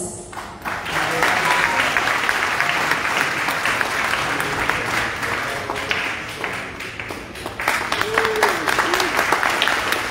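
An audience at the opening of an Indonesian Diaspora congress claps steadily in sustained, dense applause filling the hall, with a brief voice rising near the end over the clapping.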